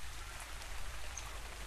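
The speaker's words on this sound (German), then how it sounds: "es regnet." Rain falls steadily in the video game ARK, a soft, even hiss of drops on surfaces, quiet and continuous with no speech.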